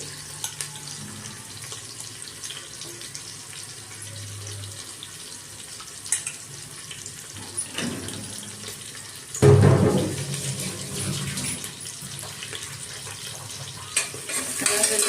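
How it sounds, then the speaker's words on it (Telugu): Chopped onions with ginger and garlic frying in a pan for veg biryani, a steady close sizzle and hiss throughout, broken by a louder clatter partway through. "ఉల్లిపాయలు అలాగే అల్లం వెల్లుల్ని వేయిస్తూ ఉన్నాను"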